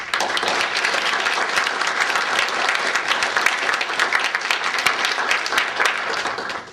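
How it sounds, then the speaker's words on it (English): Award recipients at a West Point mathematics award ceremony receive a full round of applause from the audience, dense and steady clapping at a constant level for several seconds, with no talking over it. "Please join me in another round of applause for our recipients today."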